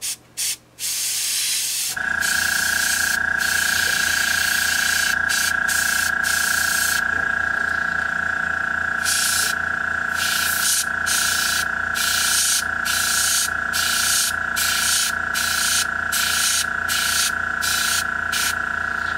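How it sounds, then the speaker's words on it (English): Airbrush spraying black paint onto a Nighthaunt miniature, a continuous close, loud hiss with a steady tonal whine, starting after a couple of seconds and running without pause. "This lets us treat our airbrush like just a very careful paintbrush"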